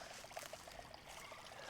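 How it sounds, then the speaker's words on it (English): Water trickles and babbles softly in a creek on a disc golf course, a faint, steady patter of small splashes with no talking. "All right, well, I am in the creek."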